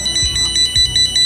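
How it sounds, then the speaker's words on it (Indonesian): Buzzer of a motorcycle GSM anti-theft alarm sounding, a rapid pulsing high-pitched electronic beep repeating steadily over low background rumble, brief and fairly loud. "buzzer akan otomatis berbunyi"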